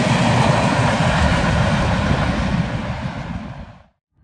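A Norfolk Southern freight train, NS 171, heads westbound at milepost 184 in Springfield, Ohio, on an evening run: a loud, dense rumble with rolling rail clatter close by, which fades and cuts off near the end.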